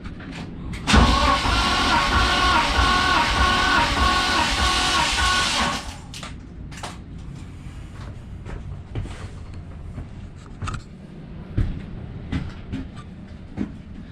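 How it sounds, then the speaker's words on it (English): A BMW-engined kart motor cranks over on the starter for a compression test with the spark plugs removed, a loud steady whirring churn lasting about five seconds before cutting off, followed by quieter shop clatter. "I'm gonna just run a quick compression test while I have the spark plugs out"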